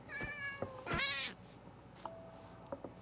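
A Minecraft cat meows in the game, with a couple of clear, rising meows close up near the start, followed by fainter short chirps and game blips.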